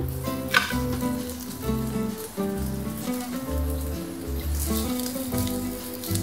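A roti sizzles steadily on a hot pan, a continuous crackling hiss beneath prominent tonal background music, with no talk.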